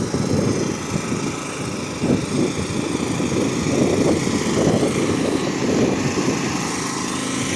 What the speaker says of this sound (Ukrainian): теж чути генератори